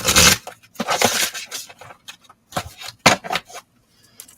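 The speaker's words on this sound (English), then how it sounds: "That was a poor shuffle." Oracle cards being shuffled by hand, with close, crisp bursts of riffling and flicking separated by short pauses, the sound alone.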